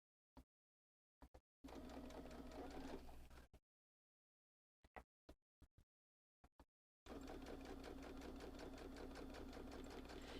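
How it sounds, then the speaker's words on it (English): A sewing machine stitches vinyl in two loud, steady bursts, separated by quiet pauses with brief clicks and taps. "I'm going to need to sew a second line of stitching"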